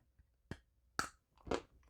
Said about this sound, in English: Wow, crunchy, sweet. That's good chocolate.